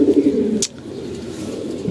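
A domestic pigeon kept in a loft coos close by in a low, throaty burst lasting about half a second, followed by quieter room ambience with no talking.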